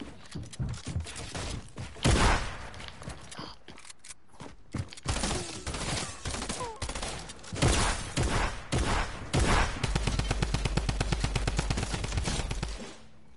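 Gunfire in Fortnite crackles in repeated bursts and single shots, close and loud, with a rapid sustained volley near the end; quiet game noises fill the gaps.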